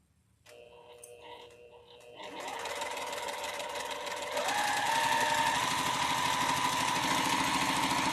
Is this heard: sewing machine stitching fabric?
yes